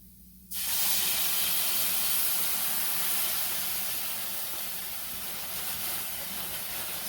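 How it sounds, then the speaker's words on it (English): White wine poured over toasted risotto rice hisses loudly the moment it hits the hot pan, after a short quiet start, then settles into a steady, slowly fading sizzle with no talking. "So now it's going to be time to add our white wine."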